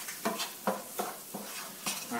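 Red pepper and shallots sizzling in a pan, with a steady soft sizzle broken by several sharp stirring scrapes and clatters at irregular intervals.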